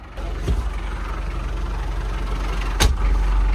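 A tractor engine drones steadily in seventh gear while rolling a freshly sown soybean field with a Kverneland compactor, a continuous low rumble with two brief sharp knocks.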